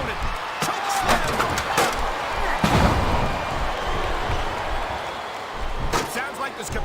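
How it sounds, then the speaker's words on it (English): A chokeslam lands in the PS2 wrestling game Smackdown vs Raw, a heavy booming thud over a roaring arena crowd, with commentators talking around it. "Choke slam."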